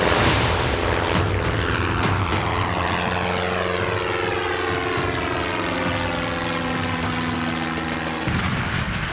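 A military propeller aircraft flies low overhead during an Indian Army exercise, its loud steady engine drone sweeping past with a shifting pitch as it passes.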